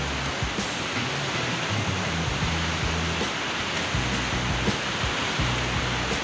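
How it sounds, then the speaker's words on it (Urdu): The Mastuj river rushes steadily in a mountain valley, a loud, unbroken wash of roaring water with low rumbling underneath and no break throughout. "بہت زیادہ شور. دریا ہے مستوج"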